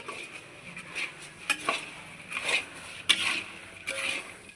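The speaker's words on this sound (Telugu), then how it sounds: "బూందీ అయితే పోసి కలుపుతున్నాను" Boondi poured into a pan for sweet mithai and stirred, with clinks and scrapes of a spoon against metal over a soft hiss, several sharp knocks spread unevenly, close by with no clear talk.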